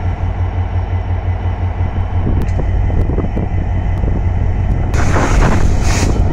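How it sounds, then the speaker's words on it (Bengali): A train pulling out of Joydevpur station bound for Dhaka Kamalapur gives a steady low rumble and clatter that grows louder near the end, with gusty wind buffeting the microphone throughout. "জয়দেবপুর স্টেশন থেকে ছেড়ে যাবে কিছুক্ষণের মধ্যে ট্রেনটি।"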